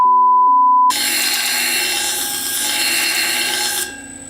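Sandpaper belt on a grinder working a knife edge, refining 60 grit scratches: a steady broadband abrasive hiss with a sustained machine tone starts abruptly after a short electronic beep and runs loud for several seconds before easing off.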